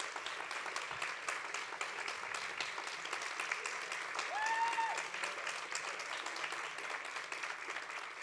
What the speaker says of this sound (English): a big hand of applause for everybody who works in the backstage to make it happen